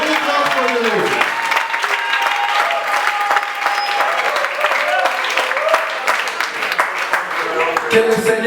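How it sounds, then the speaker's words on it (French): Church congregation clapping for the Lord, loud sustained applause filling the room, with voices and shouts mixed through the continuous clapping. "then we clap for the Lord"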